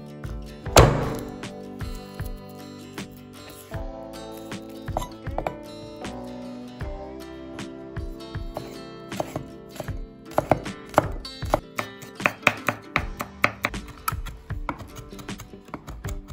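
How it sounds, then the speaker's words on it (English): A knife smashing, then dicing a small garlic clove on a board: a heavy thunk near the start, then scattered, increasingly rapid close chopping taps with short gaps, no voices. "Smash, peel and dice one small garlic."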